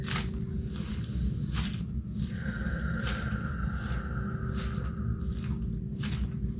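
Water and glitter slosh back and forth inside a calming bottle, giving soft repeated swishes in an even rhythm over a low, continuous rumble.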